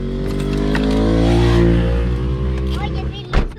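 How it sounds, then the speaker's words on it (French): A motorcycle passing close by on a road, a loud engine drone that swells and then fades over a few seconds, with a voice talking over it. "Oh, il y avait une moto."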